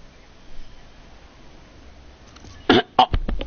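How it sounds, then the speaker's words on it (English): A person coughs in a few sharp, close bursts near the end, over a low steady background hum during a solo online shooter match. "I have a bad cough."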